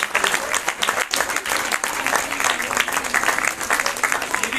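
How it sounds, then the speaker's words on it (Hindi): Audience at a science festival event in Uttarakhand applauds, dense sustained clapping from a crowd that stays steady and fairly close for several seconds. "उनके लिए जोरदार तालियां बजाइए।"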